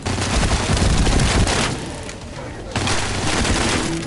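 Sustained rapid gunfire rattles in The First Descendant, loud and dense, easing briefly midway before the barrage resumes.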